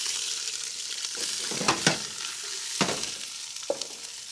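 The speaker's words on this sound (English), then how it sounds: "So I'm gonna get some of the onions going for the soup." Onions frying in a hot pot for roasted garlic onion soup, a steady close sizzle broken by a few sharp stirring scrapes and clanks, no talk.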